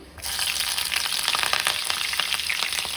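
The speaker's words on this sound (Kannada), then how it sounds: "ಸೊ ಆಯಿಲ್ ಕಾದಿದೆ. ಫಸ್ಟ್ಲಿ ನಾನು ಚಿಲ್ಲಿ ಹಾಕೊತಾ ಇದ್ದೀನಿ" Chilli dropped into hot oil in a pan while making chicken manchurian erupts into loud, close sizzling and crackling that starts abruptly and stays intense and steady.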